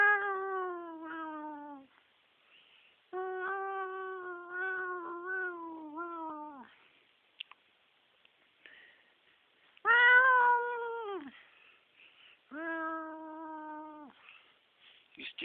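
Cats on catnip let out long, drawn-out meows that slide downward in pitch, arriving in several separate bouts with quiet gaps between them.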